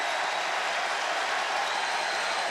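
Basketball arena crowd at a Michigan at Purdue game lets out a steady, dense cheer with scattered applause, filling the space evenly for a couple of seconds with no distinct voices standing out.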